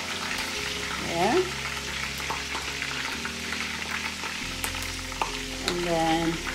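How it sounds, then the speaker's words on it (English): Garlic sizzles in a pan over lowered heat for Hawaiian chicken, giving a continuous moderate frying hiss with occasional utensil clinks and scrapes, while brief background voices and a tonal chirp come and go. "So now, guys, I'm gonna add the garlic."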